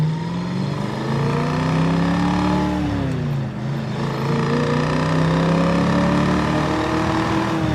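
Ford Mustang Fastback with a 289/302 small-block V8 cruising at highway speed, a steady loud engine drone that dips briefly mid-way before rising again, with road and wind noise and no talking.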